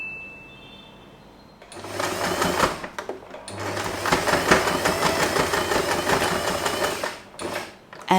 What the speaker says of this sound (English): Just put it inside like this, and you can sew this part.